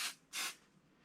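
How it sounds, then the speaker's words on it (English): Aerosol spray adhesive can firing two short, close hissing bursts while basting a quilt; the second burst is slightly longer, and a quiet pause follows. "kitty's a little scared of the spray sound"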